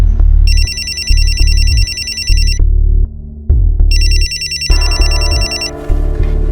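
A telephone rings in two loud electronic bursts, each a pulsing trill lasting a couple of seconds, with a short gap between them and a low steady background underneath.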